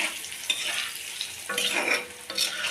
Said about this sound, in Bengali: ডিমটা ভালো করে ভেজে নিতে হবে